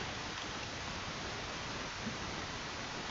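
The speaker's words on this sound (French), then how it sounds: "Il pleut. Je sais pas qu'il pouvait pleuvoir. Dans cette dimension." Rain falling in the video game Minecraft, a steady even hiss of dense rainfall filling the whole stretch without pauses or talk.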